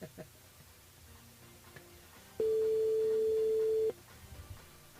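A single steady telephone call tone sounds for about a second and a half, clear and isolated, as a radio host dials a listener; quiet studio background and talk surround it.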